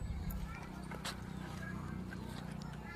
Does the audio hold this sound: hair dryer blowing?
no